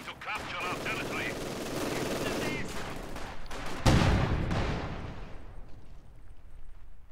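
Video game battle gunfire, rapid rifle bursts and shots crackling under in-game voice callouts, with a heavy explosive blast near the middle fading into distant rumble.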